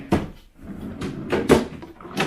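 A wooden drawer in a newly assembled IKEA unit slides open and shut several times, a few close, distinct knocks and rolling slides with short gaps between them.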